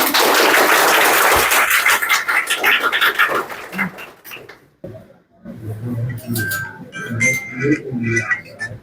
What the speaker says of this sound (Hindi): बहुत बढ़िया तालियां बजाओ।